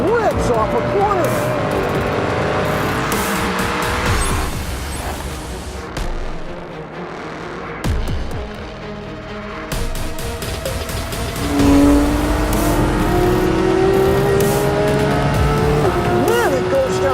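A 2020 Ford Mustang Shelby GT500 is driven hard on a race track: the engine roars and revs through gear changes, tires squeal, and loud wind and road noise fill the cabin while someone talks throughout.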